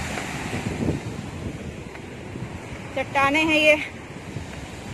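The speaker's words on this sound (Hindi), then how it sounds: "यहाँ पे पानी की आवाज बहुत ज्यादा है" Rushing water at Bhadbhada waterfall near Jabalpur makes a steady broadband roar with wind buffeting the microphone, and a person talks over it for much of the stretch.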